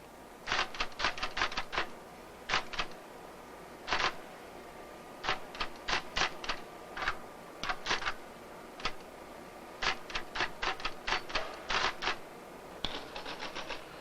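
Clicky keystrokes on a 1967 computer terminal keyboard arrive in quick bursts separated by short pauses, close and fairly crisp against a quiet room.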